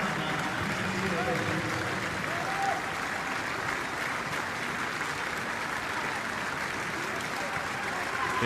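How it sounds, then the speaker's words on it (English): Distant stadium crowd applauding during an A-League football match between Brisbane Roar and Adelaide United, a sustained wash of clapping heard under commentary voices. "you can hear the applause for Dylan Tombides"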